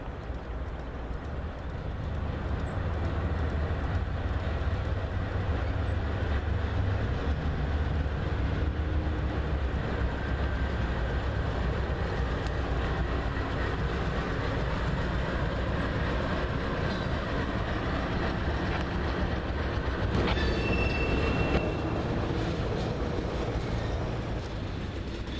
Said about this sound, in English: my goal was met as I caught this Union Pacific train heading through West Bottoms